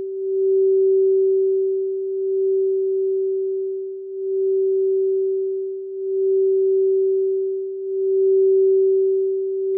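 A quartz crystal singing bowl rings a single pure, steady tone with gentle rhythmic swells, clear and unbroken, with no voices.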